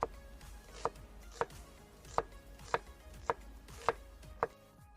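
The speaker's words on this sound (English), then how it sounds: "I'm slicing the onion into rings." Knife slicing an onion into rings on a cutting board: eight sharp, evenly spaced chops, close and clear, with a quiet background between strokes.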